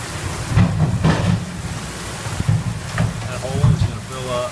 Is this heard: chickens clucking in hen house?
no